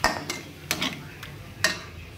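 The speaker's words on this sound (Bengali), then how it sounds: "মশলাটাকে ভালো করে নেড়ে চেড়ে কষিয়ে নেব" A metal spatula clinks and scrapes against a pan while spice paste with a little water is stirred and fried for pointed gourd with prawns, sharp taps landing at uneven intervals over a steady low sizzle.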